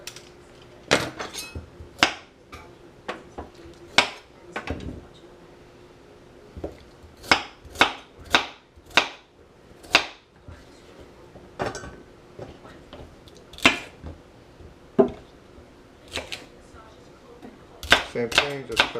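A kitchen knife chops vegetables such as celery and carrots for a fresh tomato sauce, sharp irregular thuds against a cutting board coming in bursts and clusters, close and clear, with quiet room tone between strikes.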